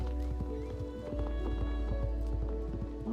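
Hoofbeats of Everspell, a Paso Fino horse, running in Star Stable Online: a quick, even rhythm of close clip-clop footfalls over a steady ambient game drone.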